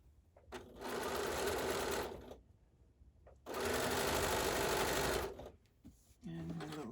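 Sewing machine stitching quilt rows in two long, steady bursts of rapid whirring, separated by quiet pauses with small handling clicks, then starting up again briefly at the end; close and clear.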